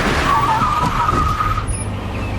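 Car brakes screech in a long skid on a BMW, a rising and falling squeal lasting over a second before fading into low road rumble and a brief high tone.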